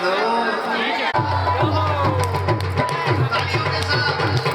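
A crowd at a Bhagwat Katha religious gathering shouts a jaikara and cheers together, a loud sustained mass of voices with rhythmic pulsing, dense and close throughout.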